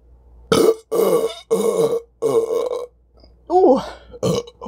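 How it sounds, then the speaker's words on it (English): A string of loud, close burps after eating cheese pizza, five or six deep croaking eructations in quick succession separated by brief silences, with a short voiced exclamation among them. "And the cheese burps."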